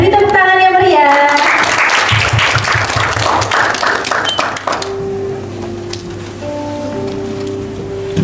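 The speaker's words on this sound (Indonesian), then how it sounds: "Beri tepuk tangan yang meriah." At a book-discussion event in a university library in Indonesia, an audience claps to welcome a speaker, a brief burst of scattered clapping that rises and fades, with sustained musical tones before and after.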